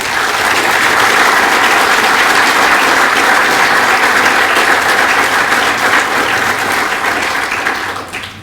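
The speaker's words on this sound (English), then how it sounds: "let's give them one more round of applause, please" A room full of people at a high school honor society and awards night gives a loud, continuous round of applause that holds steady and then tapers off at the close.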